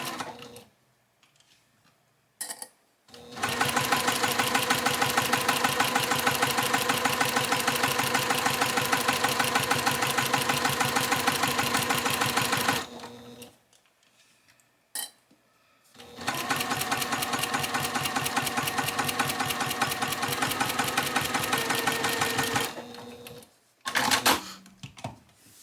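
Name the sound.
sewing machine stitching quilt sashing seam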